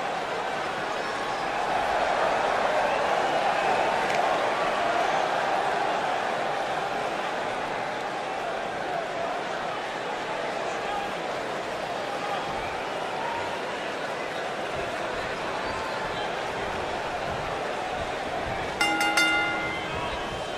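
Sold-out arena crowd in the wrestling game WWE 2K19, a broad, steady roar of many voices in the background beneath continuous commentary, with a brief bell-like ring near the end.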